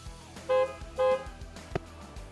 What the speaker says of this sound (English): Let me go honk the horn real quick